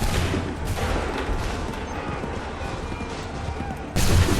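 Dense musket volley fire in the Assassin's Creed III video game, a continuous roar of overlapping shots with sharp loud bursts at the start and near the end.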